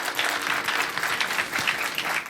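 A live meetup crowd at an AI film club show gives a warm round of applause. The clapping is dense and steady and sits at a moderate distance, with no speech over it.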